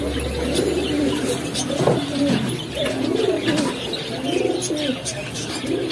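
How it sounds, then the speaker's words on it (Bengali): Pigeons cooing in a pigeon shop where a pair with chicks is kept, repeated throaty coos overlapping at close range with faint chirps and some background voices. "আর এইখানে বাচ্চা সহ এক জোড়া কবুতর আছে"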